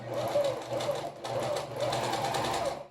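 Sewing machine running a zigzag stitch (width 2) along bias binding at the base of a racerback bra, a steady close whirring hum with a brief pause near the middle, no talk.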